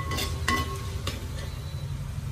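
Fish curry masala with mackerel sizzles and is stirred in a pan, with a steady low frying hiss and a few distinct scraping strokes of the spoon against the pan near the start and middle.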